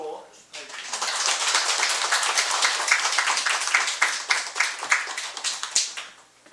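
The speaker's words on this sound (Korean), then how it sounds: "박수로" A church congregation claps during a Sunday morning service to honour a student receiving a scholarship, a lively burst of many hands that swells after a short pause, then tapers away near the end.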